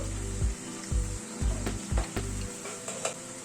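Ridge gourd mixed with the other ingredients fries in a pan with a soft, steady sizzle, punctuated by several low thumps and scrapes of a spatula at an uneven rhythm, close and fairly quiet.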